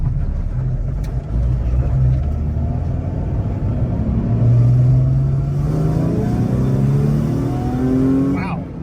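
A car engine accelerates hard in a newly acquired car, its rising harmonic pitch sweeping upward through several gears with a loud continuous rumble heard from inside the cabin.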